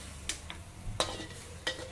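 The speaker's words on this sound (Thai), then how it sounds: "เสร็จแล้วเราก็เอาหมูสับไปลวนให้สุก" Minced pork being stir-fried in a pan with a little water, a low sizzle under several sharp scrapes and clatters of a spatula against the pan, close and fairly loud.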